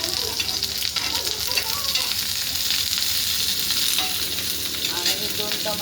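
Onion sizzling and frying in hot oil in a pan, with steady broadband crackle and scraping stir strokes throughout, no voices, while cooking a Maharashtrian mutton curry.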